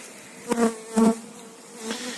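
Honey bees buzz around a beehive at an apiary during a spring inspection, with several close, droning passes swelling and fading over a low steady hum, and no talking.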